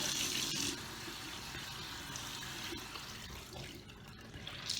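Water running from a tap while a face is washed, a soft steady splashing stream with a few light bumps and spatters, fairly quiet and heard alone.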